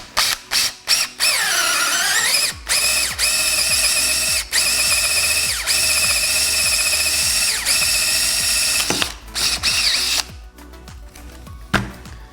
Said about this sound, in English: I'm going to drill a hole right next to the other one so you can see exactly what happens